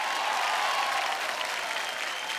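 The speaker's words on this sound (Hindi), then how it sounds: "जोरदार तालियां एक बार।" Loud, dense applause from a studio audience at a school quiz show, a continuous wash of clapping that holds steady for the whole moment.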